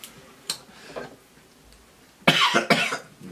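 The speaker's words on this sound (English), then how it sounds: "Coughing here." A few faint throat noises early on, then two loud, harsh coughs in quick succession near the end, close to the listener.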